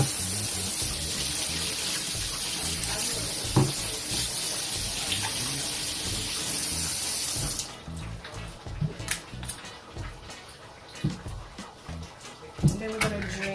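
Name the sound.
water rinsing the top of a can of Goya butter beans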